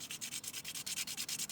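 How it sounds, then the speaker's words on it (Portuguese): Resin orgonite piece being sanded by hand, a steady rapid rasping of about a dozen back-and-forth strokes, close and fairly quiet, with no voices. "Aqui eu continuo lixando,"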